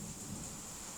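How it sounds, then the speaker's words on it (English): Steady rain with low thunder rumbling outside in a tropical country, a constant wash of noise through the whole second, fairly faint and with no talking. "Sorry for the background noise, but it is raining because, as you know, this is a tropical country."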